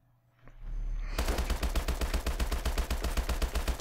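Automatic gunfire in Call of Duty Advanced Warfare: after a quiet start, a long, rapid, evenly spaced burst of loud shots runs unbroken to the end, heard alone without speech.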